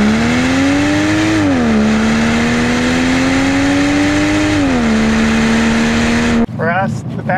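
A 2016 Volvo V60 T6 Polestar, a small, light all-wheel-drive performance wagon, accelerates hard to pass. The loud, steady engine note climbs through the gears, then quiets into a brief shift before cutting off near the end.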